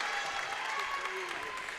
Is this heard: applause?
yes